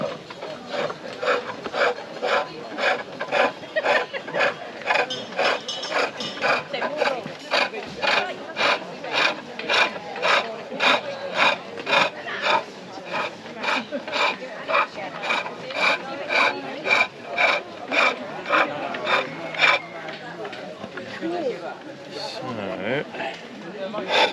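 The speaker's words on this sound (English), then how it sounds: "modern skew chisel out now from my kit, and that one will do the left side." Modern skew chisel working wood at an outdoor bushcraft gathering, a rapid regular scraping rhythm of repeated strokes, close and clear, with faint background voices.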